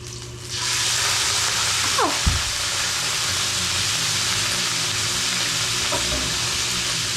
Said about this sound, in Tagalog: nagigisa ko itong manok